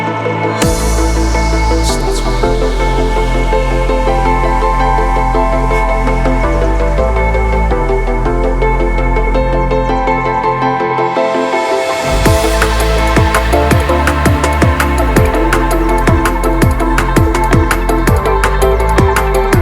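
Hard dance track in the happy hardcore style, playing loud and continuous with dense synth chords and a driving bass, breaking down briefly near the middle before the full beat returns.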